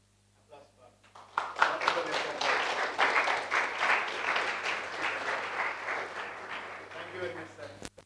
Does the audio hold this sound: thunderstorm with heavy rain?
no